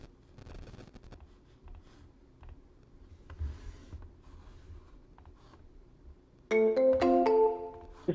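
A phone line rings after a number is dialed: a low, quiet stretch of line noise, then a loud, steady electronic ring tone with bright harmonic tones near the end.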